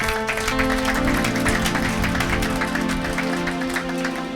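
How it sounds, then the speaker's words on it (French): A church congregation applauds in a steady, dense wave of clapping that carries on without a break, with a faint musical tone held underneath. "Acclamez pour la gloire éternelle notre Dieu."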